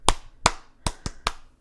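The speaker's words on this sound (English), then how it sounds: "let me clap?" Five sharp hand claps close by, spaced slightly irregularly at roughly half-second then quicker intervals, each ringing briefly in a quiet room with no talking.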